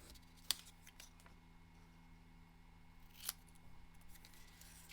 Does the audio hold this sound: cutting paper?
yes